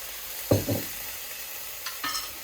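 Rice fries in a pan until translucent, a soft steady sizzle broken by a few brief scraping stirs, close by and fairly quiet.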